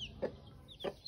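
Hens cluck softly alongside faint high peeping of chicks, a few short calls close by in a quiet setting with no talking.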